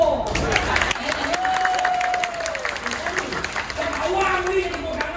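Applause from an audience at a Balinese Arja Klasik theatre performance at a festival, a steady patter of clapping that runs throughout alongside a sung or held vocal line and other voices.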